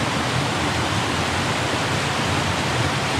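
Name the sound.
stream water flowing on Two Runs Nature Trail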